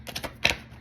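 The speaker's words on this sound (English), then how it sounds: "I'm just going to shuffle a few more times." Tarot cards being shuffled by hand, a few quick papery riffling bursts followed by a brighter flurry, close and fairly soft with no talking.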